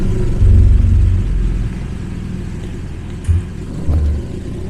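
Two loaded touring motorcycles rumble off, a loud low engine drone swelling early then easing away, with a couple of brief revs toward the end.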